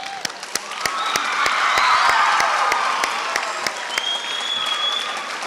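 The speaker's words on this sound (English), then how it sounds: "Let's give the participants and the faculty advisors one final round of applause." A school auditorium audience claps for debate participants and faculty advisors in a sustained round of applause, dense and loud, swelling in the middle and tapering slightly, with sharp individual claps standing out near the microphone.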